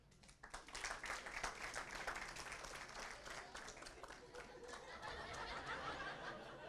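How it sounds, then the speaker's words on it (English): Audience applause at a stand-up comedy show, steady clapping with scattered chuckles and crowd noise lasting several seconds, moderately distant and even in level. "Such sadness in that applause."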